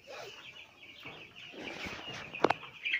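Chickens in a small poultry setup raised for a flock of about 100 chicks, clucking and chattering continuously at close range, with a couple of sharper calls near the end and no voices.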